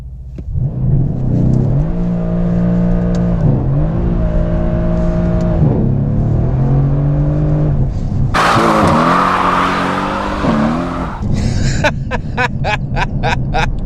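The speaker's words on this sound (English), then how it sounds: "I'm gonna turn the traction completely off. There we go. And then we're gonna do a launch control here." Mercedes-AMG C63 S launching with traction control fully off: a loud, steady engine roar with rising and falling revs, then a burst of harsh tire-shredding noise and crackling near the end, close and continuous.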